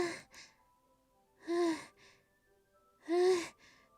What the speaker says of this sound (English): What's that noise? It's coming from around the corner. Sounds like breathing.